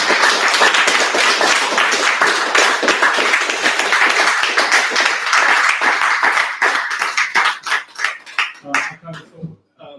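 Loud, sustained applause from a crowd fills most of the stretch, then thins into scattered individual claps before fading out near the end.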